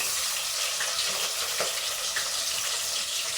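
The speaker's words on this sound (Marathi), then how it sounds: "कांदा टाकून घेऊया" Onion sizzles in hot oil in a pan during a tempering for vegetable pulao, a dense continuous frying hiss with faint clicks and scrapes of stirring, close and steady with no voices.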